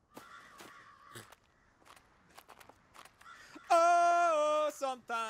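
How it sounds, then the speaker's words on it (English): Crows cawing inside the Quiet Place video game, a few harsh calls over faint footsteps, then a loud sustained harmonic cry near the end; no talk. "Oh, that's birds."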